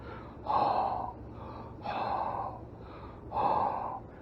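Three loud, breathy exhalations and inhalations burst out at regular intervals as a seal surfaces in the Cape Cod Canal to blow and gulp air, with quiet between them.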